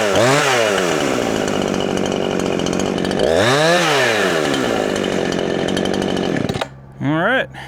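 An old Husqvarna 350 chainsaw runs loud and close after a repair with a new spark plug and piston needle bearing, revving up and down in two long swells before dropping to idle and blipping the throttle once more.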